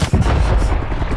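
A loud, heavy burst of video game gunfire fills a short moment, booming and dense, with rapid shots blurring together close up.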